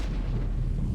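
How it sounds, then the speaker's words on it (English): A Gauss rifle shot in MechWarrior 5: Clans gives a heavy, booming blast with a dense low rumble that fills the whole second, loud and close, with no talking. "that Gauss rifle does definitely feel unimpactful"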